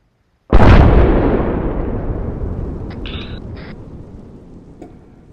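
Grenade explosion in a military video game: one sudden, loud, close boom, then a long rumbling decay fading over several seconds, with a faint brief electronic tone partway through and no talking.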